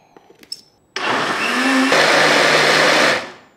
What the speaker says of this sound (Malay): Okey, once kita punya keledek dah sejuk, boleh masukkan ke dalam blender.